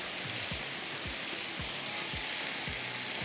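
Green chilies cooking in masala for mirch imli salan sizzle with a steady, close frying hiss, broken by regular soft stirring scrapes about every half second.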